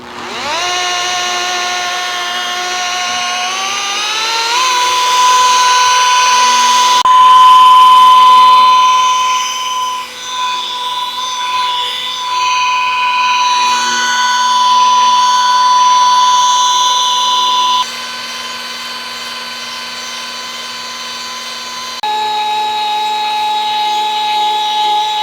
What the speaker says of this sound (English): I'm just going to continue on so you can kind of see what I'm doing with the rotary.